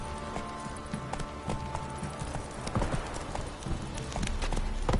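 A horse in The Witcher III video game gallops in a brisk, steady clip-clop rhythm, hoofbeats close and clear over ambient noise.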